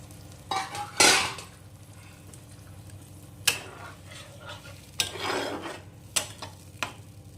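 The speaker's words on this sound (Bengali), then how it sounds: "এখন আমি এর মধ্যে উষ্ণ গরম জল দিয়ে দেব যতটা পরিমাণ গ্রেভি বানাবে সেরকম অনুযায়ী জলটা দিয়ে দিতে হবে" Prawn gravy (chingri bhuna) cooking in a pan after warm water is added, giving a low steady bubbling simmer with a few sharp stirring scrapes and spoon clinks spaced through it.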